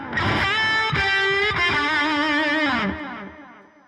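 Sustained lead electric guitar notes drenched in stacked delay and reverb, bright harmonic lines ringing out loud and alone, then a long echoing tail fading away at the end.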